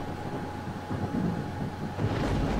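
Thunder in the 2007 game S.T.A.L.K.E.R. Shadow of Chernobyl rolls as a continuous deep rumble with a heavier surge near the end, backed by a windy, rain-like wash and no talking.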